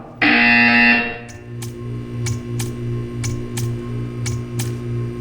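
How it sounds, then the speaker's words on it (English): A loud, harsh electronic buzzer from the game Portal 2 blares for about a second, followed by a series of regular soft ticks over a steady low hum. "When you hear the buzzer, stare at the art."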